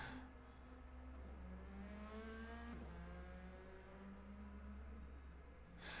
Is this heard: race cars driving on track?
yes